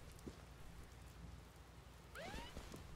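Steady rain hisses throughout the wet streets of the video game Silent Hill: Downpour, a constant even patter, with a brief rising whistle-like tone near the end over the downpour.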